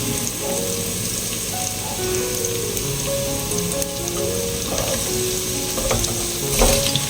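Loud, continuous sizzle of sliced onions frying in a pan for prawn dum biryani, a dense crackling hiss with occasional stirring knocks, ending with a louder clatter.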